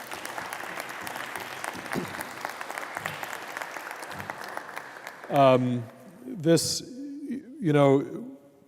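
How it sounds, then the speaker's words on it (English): An audience at a jazz vespers service applauds guests, a dense crowd clapping for about five seconds before it stops and a person starts speaking. "please give them a round of applause"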